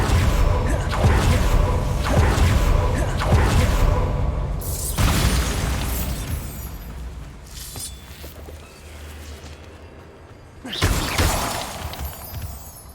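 Bombarda blasting spell explosions in Hogwarts Legacy inside a small mine: loud booming bursts with shattering debris and whooshes, one at the start, another midway and a third near the end, each tailing off into rumble.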